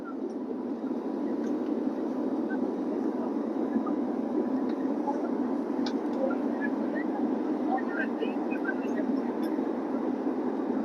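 Airliner cabin just after takeoff from Mumbai, filled with a steady, even low engine roar that holds constant throughout, with faint occasional clicks.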